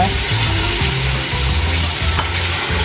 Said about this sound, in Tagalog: next na natin yung ating pinakuluang buto-buto ay yung ribs and yung pata. Ayan. Igisa lang natin siya.